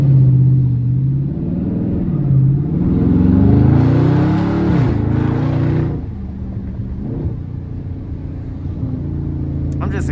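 Dodge Charger Scat Pack with the 392 V8 revving hard while drifting, engine pitch rising and falling in loud sweeps that settle into a steady, rumbling drone close by, with voices faintly underneath.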